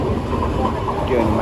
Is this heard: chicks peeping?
no